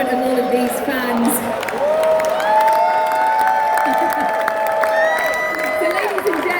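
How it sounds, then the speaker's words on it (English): A darts arena crowd at the Grand Slam of Darts trophy presentation cheers and applauds for the winner, a broad roar with whoops and a tonal horn-like line running through it, fairly close and loud. "let's give you a big cheer now in front of all of these fans"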